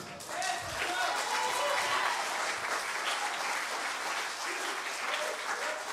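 Congregation clapping and applauding at a church revival service, a steady dense wash of claps sustained throughout, with voices mixed in the crowd.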